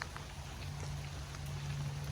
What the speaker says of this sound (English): you got to see what it looks like when it rains.